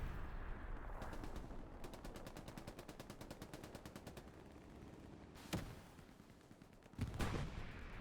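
Gunfire in a Hell Let Loose battle: a long burst of rapid, evenly spaced machine-gun shots, followed by two louder, heavier blasts from an IS-1 tank cannon, all fairly distant with a steady rumble of battle underneath.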